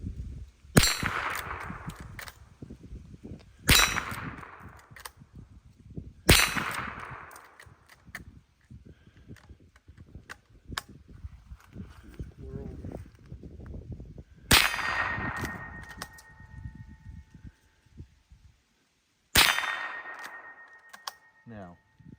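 A Marlin 39A rifle fires five spaced shots outdoors, each sharp crack followed by a ringing metallic clang from steel targets that decays over a couple of seconds, with quiet talk between shots.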